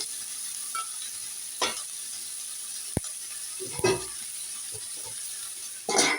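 Dried fish frying in a pan gives a steady background sizzle with a few louder crackling bursts and stirring scrapes, close and moderately quiet, with no talking.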